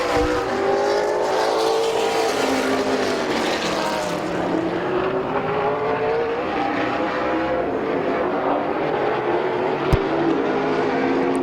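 Race cars roar steadily around Midvale Speedway as they finish a heat race, the engines loud and continuous with shifting pitch as they pass, and there is no talking.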